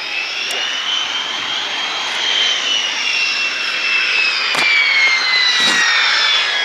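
Aero L-39C Albatros jet trainer's engine whining steadily with a rising, sweeping tone, loud and sustained without talk.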